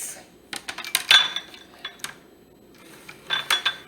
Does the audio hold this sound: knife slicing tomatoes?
yes